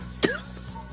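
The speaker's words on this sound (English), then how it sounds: "I have a little bit of a stupid cough" A single short, harsh cough sounds close and alone, followed by a faint throaty trailing breath and low background hum.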